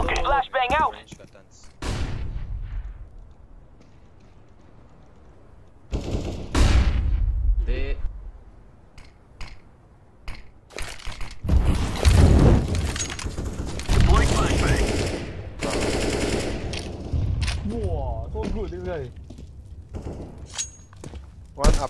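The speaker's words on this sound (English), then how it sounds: "Okay, flashbang out." Flashbang grenade and gunfire in a tactical shooter video game, with sharp bursts and shots scattered through the clip, some loud and close, alongside footsteps and voices talking.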